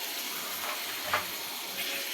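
Spices frying in oil in a home kitchen give a soft, steady sizzle and hiss with a faint stir or scrape partway through, quiet and with no talking.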